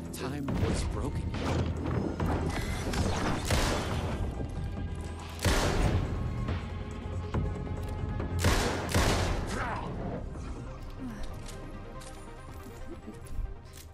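Rapid, loud gunfire from the survival horror game Alan Wake 2 fills the whole stretch, with dense overlapping shots, booms and crashes over a constant low rumble.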